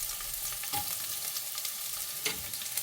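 Onion sizzling in hot ghee with a dried red chilli for Kerala coconut rice: a steady close crackle and hiss, with a couple of soft stirring knocks and no voices.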